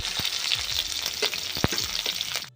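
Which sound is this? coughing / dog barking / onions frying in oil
onions frying in oil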